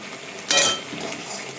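Onion frying in a pan as ginger-garlic paste goes in, a steady soft sizzle with a brief louder clatter of utensil against the pan near the middle.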